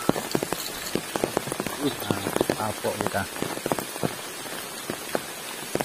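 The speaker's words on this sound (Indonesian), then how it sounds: "Gimana tuh, hujan terus ya?" Steady light rain patters on a camping shelter during a downpour, with close scattered drips and taps on the surface and people talking quietly underneath.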